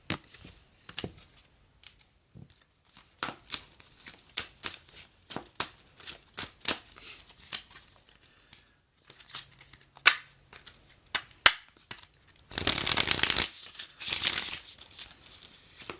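Tarot cards being shuffled and cut: quick snapping riffles and soft slaps come in scattered clusters, close and quiet, ending in two longer rustling bursts.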